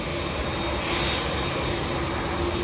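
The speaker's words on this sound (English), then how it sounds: "This is QF-12 taxiing to a gate." Qantas QF-12 airliner, just arrived from Los Angeles, taxiing to a gate at Sydney Airport: a steady, loud broadband jet engine roar with a constant whine, continuous throughout.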